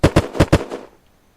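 Four quick gunshots from a rifle in the survival game Unturned crack out in a tight, loud burst, each with a bright sharp attack, then trail off into a short fading tail and near silence.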